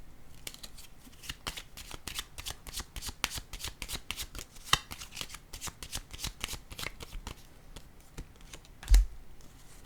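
Tarot cards are handled and shuffled in a rapid, crisp series of papery flicks and riffles, ending in a soft thud as one card is set down, all quiet and close.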